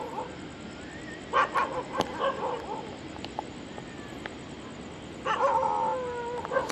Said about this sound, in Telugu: ఇదిగో కుక్కలు కూడా అరుతున్నాయి.